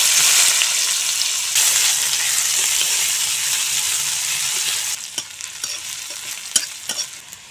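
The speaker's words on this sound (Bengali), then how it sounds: "এখন আবার কড়াইতে অল্প তেল দিয়ে দেব।" Chopped onions hit a little hot oil in a wok (kadai) with a loud, dense sizzle that later drops down, leaving quieter frying punctuated by stirring clicks and scrapes.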